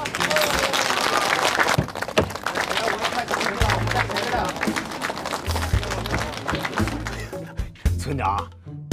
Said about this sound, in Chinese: 来，大家拍手。